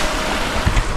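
Surf washing onto a beach in Phuket, Thailand, a steady broadband wash with wind buffeting the microphone and a couple of low thumps near the end, no voices.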